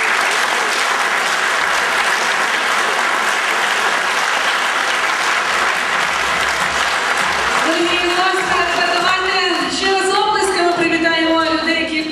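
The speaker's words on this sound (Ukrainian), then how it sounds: "Аплодуємо! Аплодуємо! Аплодуємо!" Loud, sustained applause from a concert audience at a Prosvita house anniversary gala, with clapping filling the whole stretch and a voice calling out over it toward the end.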